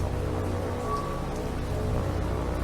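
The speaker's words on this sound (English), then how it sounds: "Oh, it is raining." Steady rain from a War on the Sea naval battle, a dense, even hiss with a low rumble underneath, continuous and fairly loud throughout with no voices.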